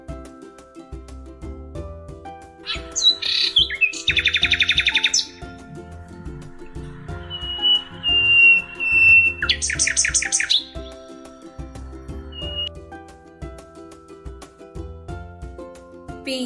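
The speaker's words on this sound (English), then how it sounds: "Nightingales sounds sing or warble." A nightingale sings in short warbling phrases and rapid trills, separated by pauses, layered over soft background music with a low rhythmic pulse.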